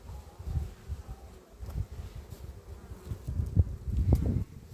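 Honeybees fly around apiary hives being readied for the cold season, with a soft, irregular buzz of insects passing close and drifting off against quiet outdoor background.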